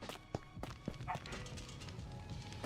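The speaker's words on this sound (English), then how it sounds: "My dog's barking." A household dog barks somewhere in the home, a few short sharp barks scattered across the moment amid room noise, moderately distant and not especially loud.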